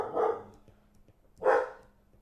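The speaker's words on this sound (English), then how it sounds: "Sorry about the dog." A dog barks twice indoors, each bark short and fairly close, separated by about a second of near silence.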